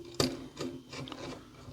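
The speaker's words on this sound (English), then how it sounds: "then we will tighten these screws down" Several short ratcheting, rubbing clicks come from screws being tightened into a large 1:2 scale T-800 model, close and fairly quiet, spaced irregularly with no talk.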